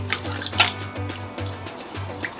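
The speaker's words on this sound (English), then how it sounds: "I'm going to add some water on it" Water poured over peanut butter in a bowl to mix a paste for a peanut butter stew with chicken, a close trickling pour with small splashes and drips, broken by short pauses.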